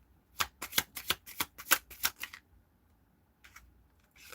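Tarot cards shuffled in a quick riffle of about ten crisp flicking snaps, close and quiet, followed by a pause and a couple of softer card rustles.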